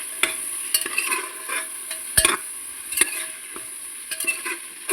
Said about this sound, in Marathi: आता ते 2 मिनिटांना या मसाल्यामध्ये एकजीव करून घेते मी.